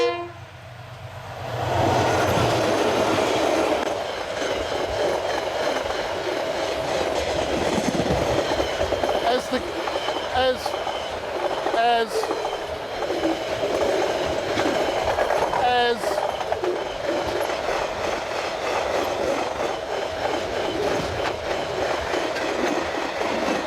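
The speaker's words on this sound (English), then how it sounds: "As the guards van of the second picnic train went by, James O'Neill sung out" A steam train rolls steadily past with a continuous rumble and rhythmic clatter of wheels on rails, loud and close, with a voice faintly beneath.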